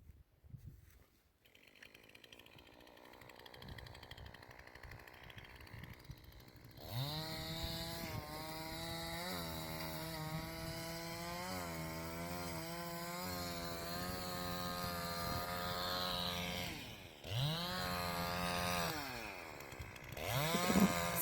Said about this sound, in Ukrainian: те, що не потрібно, зрізає бензопилою.